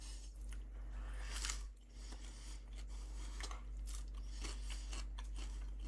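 Close crunchy chewing of Jack in the Box curly fries, with irregular bites and soft mouth sounds over a low steady hum, fairly faint overall.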